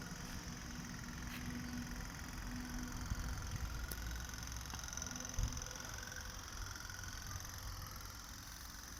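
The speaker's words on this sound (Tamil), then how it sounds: "ஃப்ரெண்ட்ஸ், இதில் சவுண்ட் வருதுல்ல, அதனால தான் இது பேர் டாப் போட்" Tap tap boat engine idling with a steady low mechanical chug and faint knocking, moderately distant, with a brief louder thump partway through.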